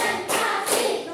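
An elementary classroom claps together in a rhythmic 'tepuk semangat' cheer, two or three quick bursts of many hands, fairly close and lively, with no talking.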